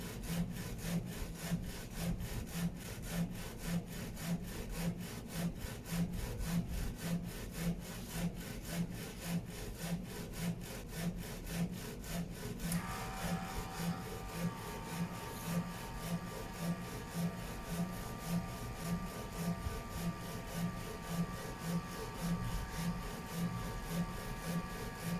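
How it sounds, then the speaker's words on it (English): A FOCUS Vega-Jet direct-to-garment printer runs a white ink pass and then a color ink pass, its print head shuttling back and forth in a steady, rapid rhythmic whir throughout, with a brighter mechanical tone joining partway. "First print the white ink, then print the color ink on the top of the white ink."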